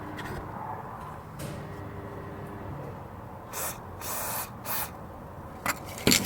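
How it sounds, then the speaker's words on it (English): Several short hissing bursts of aerosol spray onto bolts on a Nissan 350Z during clutch work, a few quick squirts then longer sprays, fairly faint against a quiet background. "get in there with a bit of spray"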